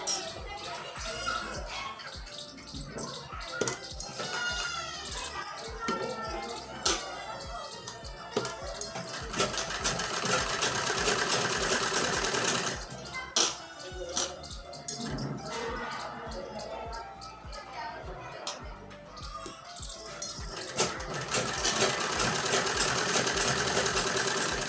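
A sewing machine stitches a pocket onto a salwar in a boutique, its rapid mechanical rattle running in bursts with brief pauses, close and steady, while someone talks over it.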